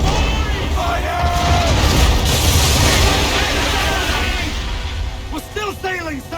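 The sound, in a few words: ship cannons firing in a naval battle, Assassin's Creed 3 video game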